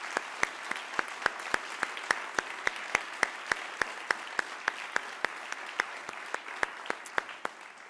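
A single person claps slowly and steadily, roughly three claps per second, sharp and distinct against a quiet room at an awards ceremony, fairly faint with no crowd joining in.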